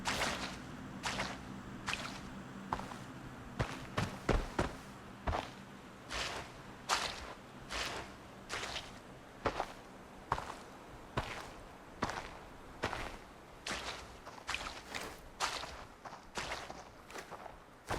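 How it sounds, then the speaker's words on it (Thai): Footsteps in the tactical shooter Arena Breakout, a quick run of close, sharp crunching steps in an uneven rhythm through most of the stretch, alone with no talk. "เสียงเท้า"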